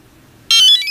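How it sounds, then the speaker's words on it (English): A boiler control beeper gives a single shrill electronic beep for error code 1, starting abruptly after a quiet moment and holding close and loud. "that little beeper's going to beep"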